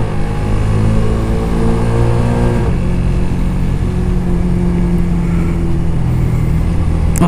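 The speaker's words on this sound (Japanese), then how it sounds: "元気なエンジンだ。" A Honda Rebel 250 motorcycle engine revving with a steady mid-pitched drone that shifts pitch partway through, loud and close with no talk over it.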